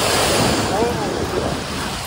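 A fast-flowing river in Kamchatka rushes as a dense, loud, continuous wash of water noise, with a faint voice briefly audible beneath it.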